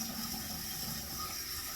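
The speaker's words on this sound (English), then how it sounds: "Rinse the face off." Water splashing and running steadily from a tap while rinsing the face after a wet shave, close and continuous for a brief moment with no talk.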